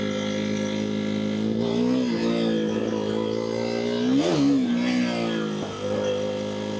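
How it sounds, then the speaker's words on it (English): A motorcycle engine revs with the clutch pulled, rising and falling in pitch with one sharp surge near the middle, loud and close, over the constant drone of the engine. "We're going to go clutch and rev up."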